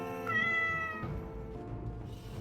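A cat meows in the Ragnarok online game, a bright harmonic cry that stretches for about a second and then fades into a softer, lower tail against a steady backdrop of game sound.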